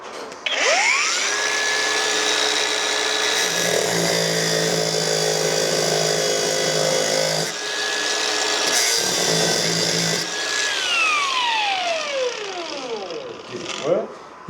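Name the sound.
power tool cutting a slot into a seized engine screw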